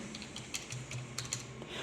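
Typing a mobile number into a web contact form on a computer keyboard, heard as a quiet, steady run of soft key clicks over low background hum.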